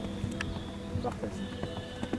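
A pony walks with hooves clip-clopping in a steady, fairly close rhythm, with faint voices and a brief whinny-like sound in the background.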